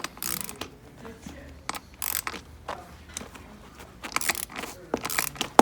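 A crescent wrench loosens the seat post bolt on a bicycle, giving close metallic clicks and ratcheting scrapes in short irregular bursts with brief quiet gaps between turns.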